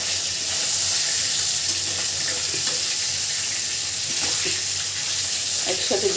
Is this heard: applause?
no